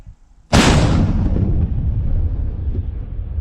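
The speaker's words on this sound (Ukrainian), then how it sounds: "Постріл!" A single huge tank cannon blast hits suddenly near Bakhmut, then a long rumbling echo rolls away and slowly fades.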